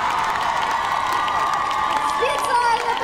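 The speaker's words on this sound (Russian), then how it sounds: "Итак, аплодисменты еще раз." Audience at a K-Cover dance awards ceremony in Busan cheers and applauds a placed team, a dense steady crowd roar with scattered whoops and shouts, moderately loud and continuous throughout.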